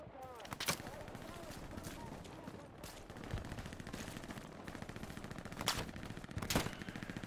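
Machine gun fire in a multiplayer video game: dense, continuous rattling bursts with sharper loud shots standing out near the start and end, running under people talking over voice chat throughout.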